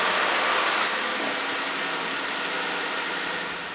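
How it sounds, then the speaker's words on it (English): A Jeep Wrangler engine with a new idler pulley and belt runs at a steady idle, a loud close broadband hum and rattle that eases slightly toward the end. "fire up your Jeep to inspect the new belt and the pulleys"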